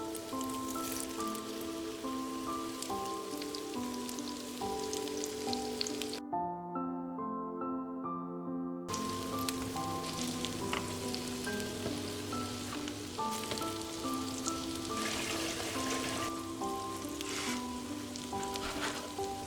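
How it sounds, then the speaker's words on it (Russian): Sweet spinach syrniki fry in a pan with a steady, dense sizzle and crackle, like rain on a surface, running for the whole stretch under continuous background music, with no one talking. "Таким же образом обжариваю сладкие шпинатные заготовки с 2 сторон по несколько минут"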